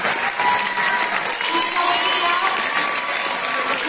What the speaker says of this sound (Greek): Θέλω να της δώσουμε ένα πολύ ζεστό χειροκρότημα.